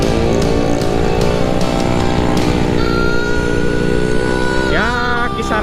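A Honda GL100 motorcycle ridden along a road at a steady cruising pace, its engine droning continuously up close, with a rising tone near the end.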